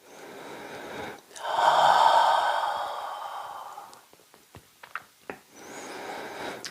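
Slow, deep breaths during a seated chair yoga stretch with the chin lifted, a long audible inhale and exhale rising and fading, then a few soft clicks and a quieter breath, close and alone.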